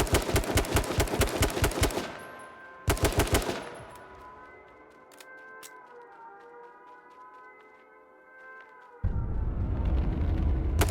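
Rapid automatic gunfire from the H1Z1 battle royale game, loud close bursts of evenly spaced shots that stop, then a sustained tonal hum, before another dense burst of fire at the end.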